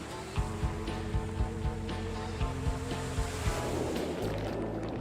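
Sea surf washes and laps onto a beach where crabs spawn, a steady broad rush with soft repeated low thumps from the waves, no voices.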